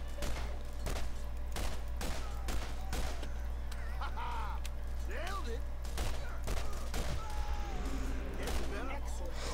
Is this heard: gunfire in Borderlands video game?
yes